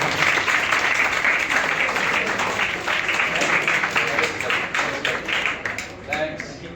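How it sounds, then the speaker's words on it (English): An audience gives a round of applause after a startup presentation at a college session, dense and loud at first before thinning into scattered claps toward the end. "Can I have a good round of clapping?"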